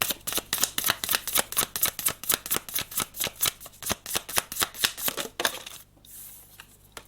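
Tarot cards are shuffled near the microphone in a rapid, even run of about thirty crisp riffle slaps, then a final rustle as the deck settles.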